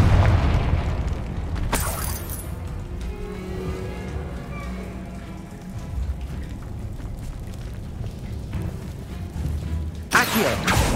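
A Confringo blast spell from a Harry Potter video game on PS5 goes off as a loud, sharp explosive burst, then a long rumbling tail, with a second sharp blast near the end.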